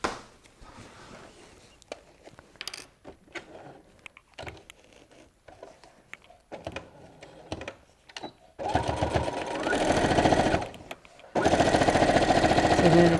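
Two steady bursts from a sewing machine running a quarter-inch seam across a tote bag, following a stretch of fabric handling and clicks. The machine sounds loud and close.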